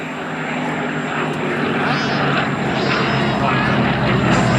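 A Bristol Blenheim, a twin-engine propeller bomber, flies at the Duxford Battle of Britain airshow, a loud steady engine drone filling the open air under light crowd noise.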